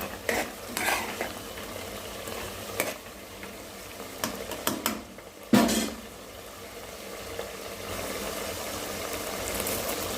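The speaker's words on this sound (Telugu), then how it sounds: "ఉల్లిపాయలు పచ్చిమిరపకాయలు మంచి దోరలంగా వచ్చే వరకు మంచిగా ఫ్రై చేసుకోవాలి" Onions and green chillies frying in a pan for a gongura prawn curry, a soft steady sizzle broken by scraping stirs and a few clinks of a spoon against the pan.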